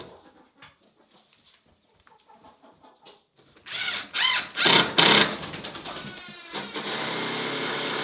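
Cordless drill driving screws to attach hinges on a wooden chicken coop: several loud, short bursts of whirring close by, following quieter clucking and rustling, then a sustained hiss-like tail.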